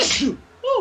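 A single sharp sneeze, loud and close, with a brief breathy burst followed by a higher voiced exhale.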